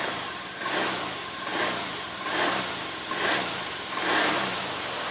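A Honda Beat ESP scooter's engine starts up after the electric starter is pressed, then runs steadily with a rhythmic, pulsing mid-range rumble up close and no talking.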